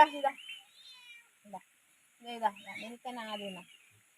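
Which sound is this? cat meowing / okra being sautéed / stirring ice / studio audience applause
cat meowing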